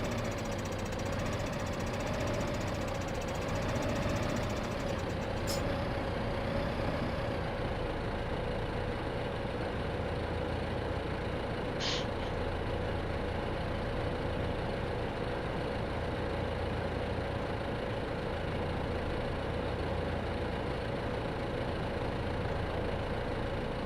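A tractor engine runs steadily in a farming video game, a continuous low drone with knocking character that holds at an even level throughout, with a couple of brief high tones over it.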